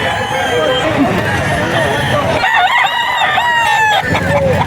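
A bullstag gamecock crows loudly and close, a long strained cock-a-doodle-doo followed by more crowing from nearby fowl, set against a busy backyard of clucking birds and people chatting in the background.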